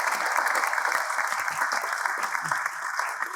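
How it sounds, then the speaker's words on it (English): Steady applause from a theater audience at an evening stage performance, dense continuous clapping that holds at an even level throughout with no voices rising above it. "Let's give them all a round of applause."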